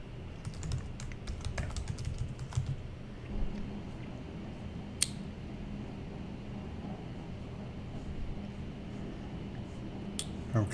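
Computer keyboard being typed on while signing up for a free software trial, with scattered bursts of key clicks over a steady low background hum, some quicker runs early and isolated sharper taps later.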